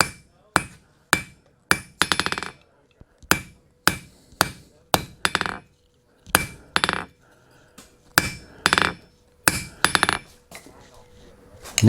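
A blacksmith hammers hot metal on an anvil during a Goliad SP blacksmithing demonstration: loud, close, ringing strikes come in quick clustered bursts with short pauses between groups.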